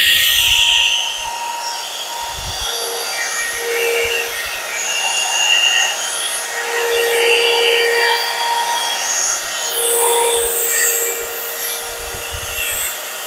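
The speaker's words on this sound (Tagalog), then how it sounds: "blower, tapos brush." A 2-in-1 hair blower brush dryer runs steadily throughout, a continuous airy motor whir with faint rustling and a few soft low knocks, close and fairly loud.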